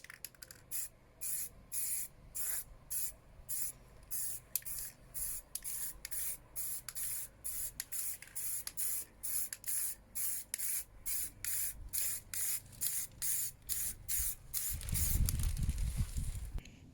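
An aerosol can sprays white paint over a rusty Bedford Rascal van in about two dozen short rhythmic bursts, close and crisp, ending in a longer rumbling rush.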